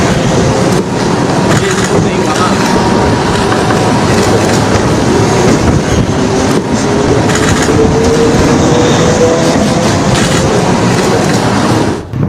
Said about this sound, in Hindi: उसी पुल से ट्रेन गुजर रही है